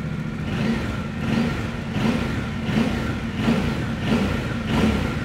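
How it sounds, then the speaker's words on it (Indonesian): The 270-degree crossplane parallel-twin of a Yamaha Tenere 700 World Raid runs close by, its throttle blipped in a regular rhythm of rising revs roughly every second over a lumpy, uneven idle. "Tuh, suaranya emang khas mesin 270 derajat teman-teman."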